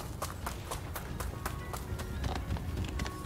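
Hooves clip-clop in a steady rapid rhythm as a horse runs in Rise of Ronin. The hoofbeats are close and distinct over a low ambient bed, with no talking.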